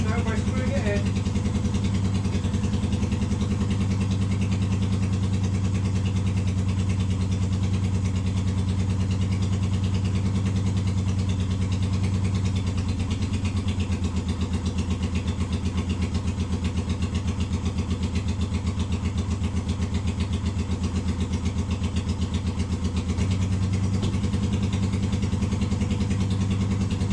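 Honda CL 350 Scrambler motorcycle engine idling steadily after its first start, a constant mid-low drone with even pulsing, close and loud throughout while carburetor idle speed is being set, with speech over it.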